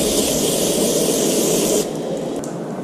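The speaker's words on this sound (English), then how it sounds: "I'm going to give it a quick spray." A can of spray cleaner hisses steadily onto the filter of a Laycock overdrive unit from a 1986 Volvo 745 Turbo, close and loud, easing slightly near the end with a brief pause before a last short burst.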